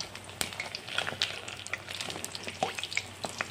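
Brinjal (eggplant) slices frying in oil over a low gas flame, a soft, steady sizzle with scattered small pops and crackles close by, heard alone without talk.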